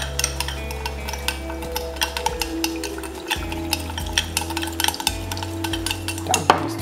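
A utensil stirs and mixes sushi ingredients in a bowl, giving repeated scraping and clinking strokes at an uneven rhythm, close and moderately loud, with a low steady hum underneath.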